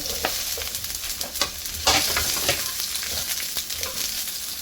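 Onion and garlic sizzle steadily in hot cooking oil while being stir-fried, with a constant frying hiss and repeated scraping, clattering stirs, close and fairly loud, with no talking.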